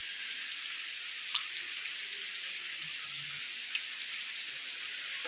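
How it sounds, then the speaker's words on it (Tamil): Steady rain falls with wind in a garden, making an even, loud hiss with a few sharp drips standing out now and then. "என்ன மழை!"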